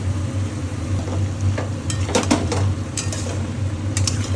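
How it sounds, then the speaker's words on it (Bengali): Ginger, garlic and green chilli paste frying in a pan for prawn biryani: a steady, close sizzle with a few brief scraping clinks from stirring partway through. "যে বেটে রাখা মশলাটা, এই যে বেটে রাখা মশলাটা দিয়ে দিচ্ছি আমি, আদা রসুন কাঁচা লঙ্কা বাটাটা ভালো করে কষিয়ে নেব।"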